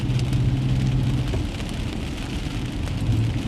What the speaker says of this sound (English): It's so rainy right now.